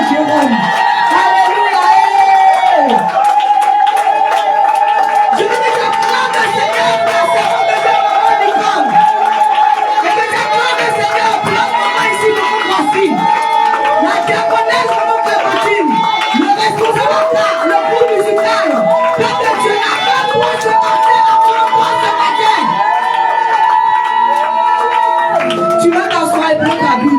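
A church congregation cheers, whoops and acclaims the Lord during a French-language service, a dense, sustained crowd roar with shouts and voices layered throughout, steady and loud from start to finish.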